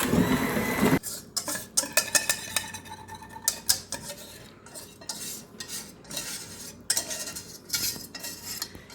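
Melted butter and peanut butter being stirred into a mixture, with repeated clinks and scrapes of a utensil against a bowl or pot in an irregular rhythm, close and fairly loud, no talking.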